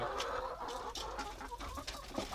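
Backyard laying hens cluck and chatter continuously at close range, with several birds calling over one another in a busy, uneven stream.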